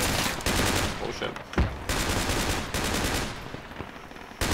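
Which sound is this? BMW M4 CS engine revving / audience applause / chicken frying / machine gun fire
machine gun fire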